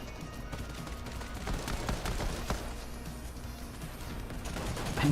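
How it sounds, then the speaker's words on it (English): Gunfire and grenade launcher shots in a competitive video game match, with sharp, scattered rapid cracks and pops at moderate volume over a steady background. "the outer edges of the range of those grenade launcher shells getting him from Tiger Aura"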